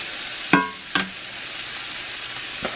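Sausage cooking in a cast iron pan, soft background sizzle broken by two sharp scraping stirs early on and a fainter one near the end.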